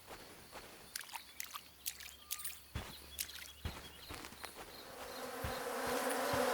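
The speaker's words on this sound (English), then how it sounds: "bees!" Insect buzzing from bees in a video game forest at night, a faint droning hum with scattered clicks and brief swells, rising toward a denser swarm sound by the end.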